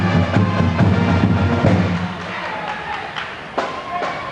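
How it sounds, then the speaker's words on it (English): Crowd noise fills the stands at a 1993 high school boys' basketball game, a busy murmur of voices with thumps and scattered shouts, louder and heavier at first before thinning out. "see if you can turn around and just pick up a little bit of the crowd"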